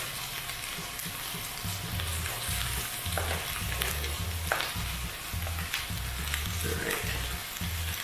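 Grilled cheese ingredients frying in a hot pan, a steady loud sizzle running throughout with occasional scraping clicks of a utensil stirring, and a low hum underneath.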